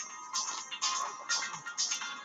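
A phone ringtone rings in repeated bursts, about five short pulses in a steady rhythm, fairly quiet and close, with no voices over it.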